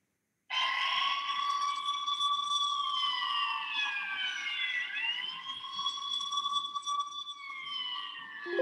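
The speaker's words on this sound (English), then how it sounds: "let's imagine that the ambulance car is nearby" An ambulance siren plays loud and steady for a siren-detecting Arduino prototype at a youth science and technology competition, its wailing tones sweeping up and down continuously with no talk.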